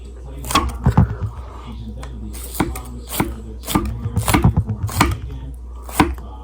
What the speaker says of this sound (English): Chop this little bit of Ampalaya.